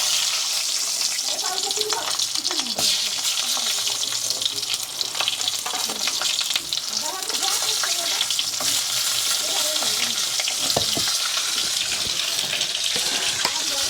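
Eggplant fries in leftover fish oil, producing a loud, dense, continuous sizzle with scattered crackles and stirring clatter close by throughout; no speech.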